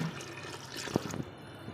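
Water poured into a pot of Hyderabadi mutton marag: a brief, close splashing pour of under two seconds, alone with no talk.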